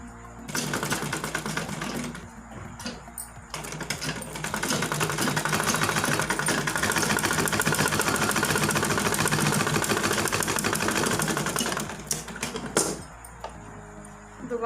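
A sewing machine stitches the hem of a dhoti salwar in close, loud bursts of rapid mechanical clatter, with short pauses near the start and end between runs of stitching.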